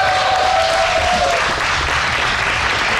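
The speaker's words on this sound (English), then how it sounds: "Give it up for Maus HassuObs." A large audience at a StarCraft 2 tournament in Cologne bursts into loud, sustained applause and cheering that fills the hall, with a brief tone near the start.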